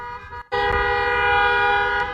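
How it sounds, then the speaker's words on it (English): Car horns honking in slow traffic at the Coachella festival campground in the desert, a loud sustained blare that cuts in after a brief gap and holds steady, with a short extra toot near the end. "why are they honking?"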